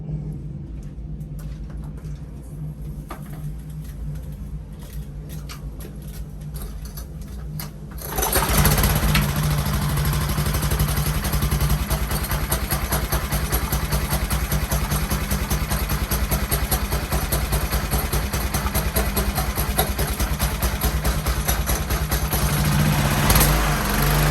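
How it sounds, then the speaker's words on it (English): A Ryobi pressure washer motor sits quiet at first with faint clicks, then starts on the first pull at about eight seconds and settles into a steady, loud, buzzing run that lasts to the end. "hopefully we can hit it in one shot on this motor to start up"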